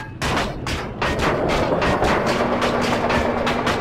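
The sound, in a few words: gunfire in the video game Battlefield Iraq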